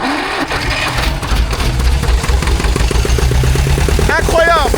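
An old tractor engine cranks and catches, then runs with a steady low throbbing idle that stays loud and close throughout, with a brief higher whine near the end.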